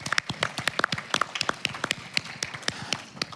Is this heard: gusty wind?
no